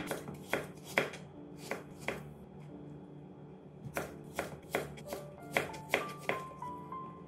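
Cucumber, seeded and cut into fairly large pieces for a Sri Lankan kakiri niyambalawa, chopped with a knife on a board in irregular bursts of crisp, close thuds, with a brief pause midway.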